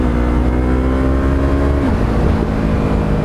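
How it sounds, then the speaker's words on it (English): A motorcycle engine running loud and close with the throttle held open as it drops from third to second gear without the clutch, the steady drone shifting pitch partway through as the gear changes. "That's clutchless shifting. There was no clutch involved."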